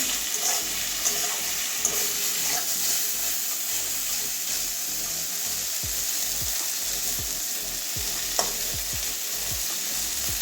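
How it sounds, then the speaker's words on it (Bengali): Bitter gourd with a small tomato fries in a pan, sizzling steadily while a spoon scrapes and stirs in irregular strokes, close up with no speech. "এটা একটু ভাজা ভাজা হয়ে যাবে"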